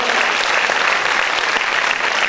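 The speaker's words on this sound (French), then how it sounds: "On peut l'applaudir bien fort." Strong, continuous applause from the audience at a variety show in the Casino de Dieppe, many hands clapping loudly and evenly for the whole stretch, with no speech over it.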